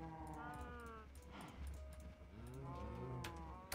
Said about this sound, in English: there's so many cows